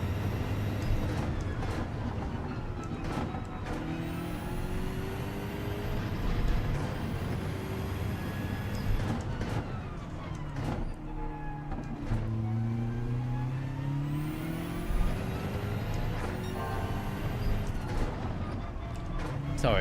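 BMW M4 race car in Gran Turismo 7, racing the Brands Hatch circuit: a steady high-revving engine drone with rising and falling gear-shift sweeps, sustained throughout at constant loudness with faint background noise.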